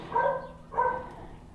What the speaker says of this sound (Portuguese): os cachorros não gostam de motoboy não, né?